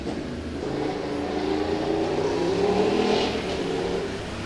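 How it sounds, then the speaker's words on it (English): A Ducati motorcycle engine revs on a street in Thao Dien, Saigon, Vietnam, a steady mid-pitched drone that rises and swells toward the middle before easing slightly, close and fairly loud with no talking. "He's got his Ducati."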